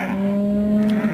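One loud, close, sustained low moo from cattle released from the Bundy Ranch, a steady tonal bellow lasting about a second with no talk over it.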